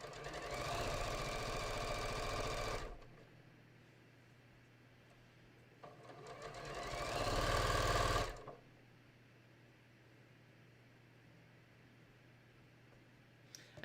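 A sewing machine stitches along the top edge of a raglan sleeve top in two loud, steady runs of whirring, separated by a quiet pause with a low background hum.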